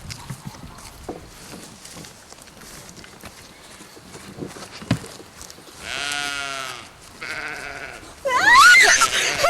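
Sheep bleating in a farm setting, two drawn-out wavering bleats, the second louder and closer, following a stretch of quiet shuffling and scattered knocks.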